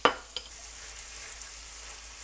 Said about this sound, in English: Stir fry the broccoli around for around 30 seconds so that it can start to soften up.